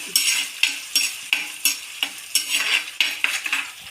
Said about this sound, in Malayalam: പിന്നെ ഈ മാങ്ങ എണ്ണയ്ക്കകത്ത് കിടന്ന് നന്നായിട്ടൊന്ന് മൂക്കാം.